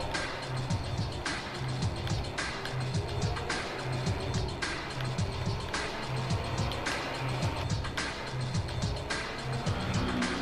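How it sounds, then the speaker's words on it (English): Ferrari Formula 1 cars in the F1 2017 racing game approach with a constant loud engine whine that rises and falls in rhythmic bursts as they rev through gears, with no pauses. "And here come the Ferraris."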